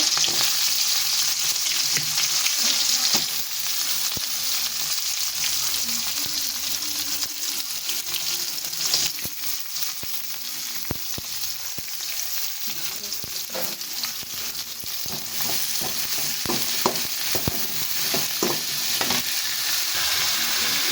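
Onions frying in oil in a pan for a sundakkai kuzhambu, with a steady loud sizzle broken by clicks and scrapes of stirring throughout.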